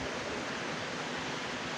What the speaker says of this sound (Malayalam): നമ്മൾ പോകുന്ന ഹൈവേന്ന് തന്നെ ഇവിടെ ഒരു ചെറിയൊരു വെള്ളച്ചാട്ടമുണ്ട്